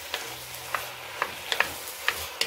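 Vegetables for ajapsandal, with garlic, hot pepper, bell pepper and tomatoes, sizzle in a pan under a steady frying hiss, broken by regular light scrapes and clicks of a spoon stirring, close by and without speech.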